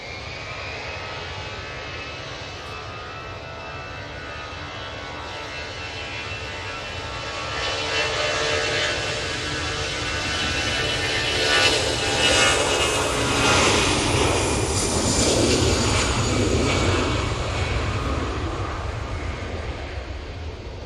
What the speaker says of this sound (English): And that EasyJet A320-200 is off to Oslo.